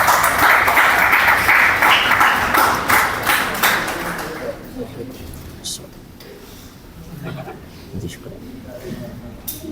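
At a creators conference, an audience gives hearty applause as a guest is welcomed onto the stage, a loud burst of clapping that fades after a few seconds into scattered claps and room noise.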